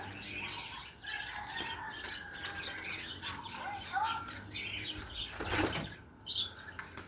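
Tippler pigeon chick loose outside its loft, with bursts of wing flapping and scattered chirps and squawks from the birds, close by, alongside quiet talk.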